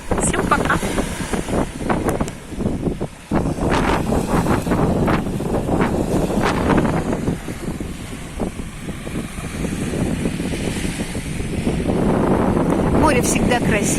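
Stormy wind gusts over the Black Sea shore, roaring steadily and buffeting the microphone, with surf mixed in. A voice speaks over the wind.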